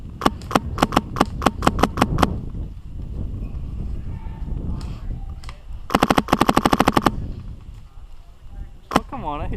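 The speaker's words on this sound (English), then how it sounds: "Shoot over my shoulder again. Just don't shoot my shoulder." Airsoft guns fire during a chaotic outdoor skirmish game, with rapid bursts of sharp snapping shots in several strings, some quick volleys near and loud, separated by quieter stretches with faint voices.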